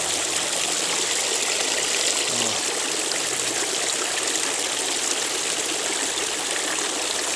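A park fountain spraying water, a steady, broadband rushing and splashing hiss that stays constant and fairly close, with no talk over it.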